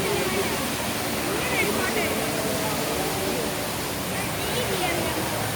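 An indoor waterfall inside Changi International Airport roars as a dense, continuous rush of falling water, loud and steady throughout with no pauses.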